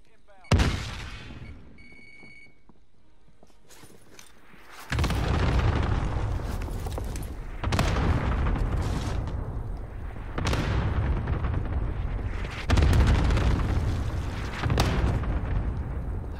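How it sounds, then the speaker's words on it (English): Heavy explosions from a cluster strike in a video game land as a series of deep booms at irregular intervals, with a low rumble between them and several voices talking. "aim the cluster strike on your house"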